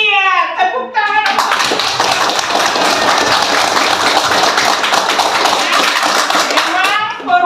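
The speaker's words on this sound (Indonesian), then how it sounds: "Iya, tepuk tangan." A classroom group claps together in a dense, steady burst lasting several seconds, loud and close, with children's voices chattering at the start and again as it tapers off at the end.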